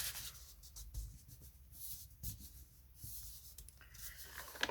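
A pencil scratches fold lines onto lampshade material for a bedside lamp, faint close strokes and rubbing in short bursts, with no voices.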